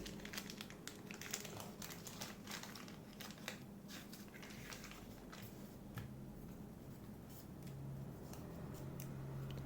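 Scissors cut through several stacked sheets of A4 paper at once, giving close, crisp snips and crinkles in an irregular series over a steady low background hum.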